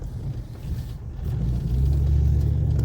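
Town traffic rumbles close by with a steady low engine drone that grows louder and heavier as a vehicle passes or accelerates, with no voices over it.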